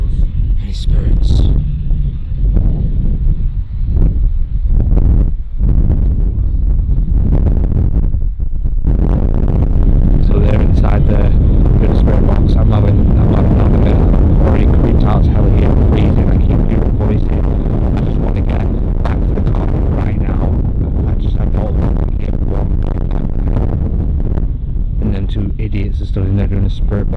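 Strong wind buffets a microphone outdoors at night at the Hellfire Club, a constant loud roar with gusty bursts, while people talk under it.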